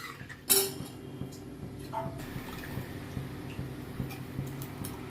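A spoon clinks against a pot of bottle gourd sambar, followed by soft sloshing and scraping as the watery mix is stirred, close and fairly quiet.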